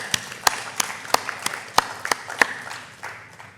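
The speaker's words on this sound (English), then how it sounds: "A big round of applause for all of them." Audience applause for former Gymkhana vice presidents at a conclave event: a sparse patter of individual claps, several sharp distinct hits over a soft background, fairly quiet and fading toward the end.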